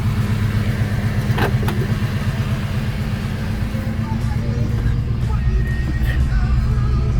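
A 1990 GMC Jimmy 4x4 with a 5.7 EFI engine, 4-inch lift and 33-inch tyres runs steadily, its low engine drone continuous and close with a couple of brief clicks.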